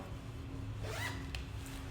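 A zipper on the back of a lace jumpsuit is drawn in one quick, close zip, a short rasp over quiet room hum.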